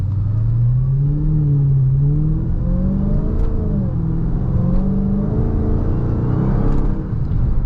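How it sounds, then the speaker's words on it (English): Dodge Charger Hellcat Widebody Jailbreak on the street with suspension in street mode, its wheels spinning under light throttle: a loud, close engine drone rising and falling in pitch with a steady roar throughout. "I'm not even really stepping on the gas and it's already spinning a whole bunch."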